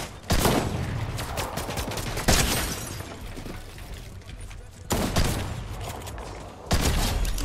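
Video-game gunfire for a headshot: bursts of rapid shots open at about 0.3 s, 2.3 s, 4.9 s and 6.7 s, loud and close, with quieter rattling between bursts and faint voice underneath.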